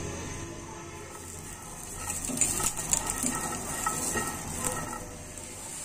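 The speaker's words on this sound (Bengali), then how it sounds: "এখন আমি কাঁচামরিচ ভেজে নিব।" Green chilies sizzle and crackle in a hot pan with oil, a steady close hiss with occasional sharper pops and stirring scrapes, swelling slightly louder midway.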